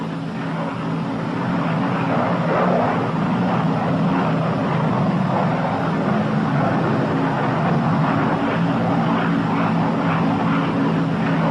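Propeller engines of a P-61 Black Widow night fighter run with props set to 2,400 RPM, a loud, steady droning roar with a low pulsing hum that continues unbroken with no voices.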